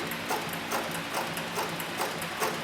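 Slow, steady stitching of a leather sewing machine on a servo motor, running at its lowest speed through two layers of soft 4–5 ounce upholstery leather: a regular ticking, clunking mechanical cycle about twice per second, with a faint hum underneath.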